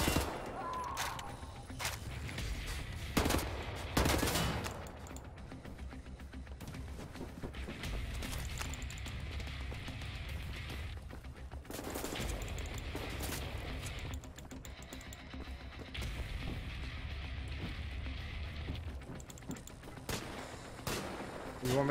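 Shotgun gunfire rings out in the Wolfenstein: The New Order video game, with several loud booming blasts spread across the stretch amid ongoing game ambience and quieter stretches between shots.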